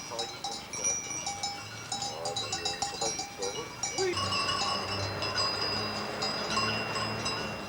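Sheep and goats bleat over and over in a busy flock, with bells clanking nearby and the noise thickening partway through.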